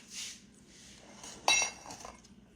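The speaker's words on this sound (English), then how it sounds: "So I'm going to put mine in a casserole dish" Baked beans going into a casserole dish, faint scraping and one sharp clink of utensil against the dish midway, quiet and close, with no talking.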